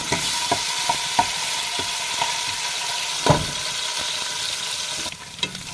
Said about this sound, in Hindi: तो लहसुन और अदरक का पेस्ट मेरा ब्राउन हो गया है